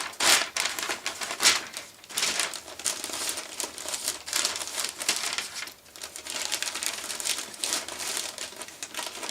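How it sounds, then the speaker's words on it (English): Newspaper is crumpled and wadded up into balls for stuffing a Halloween body bag prop, a loud, close, continuous crinkling with bursts of rustle and no talking. "So wad up some newspaper."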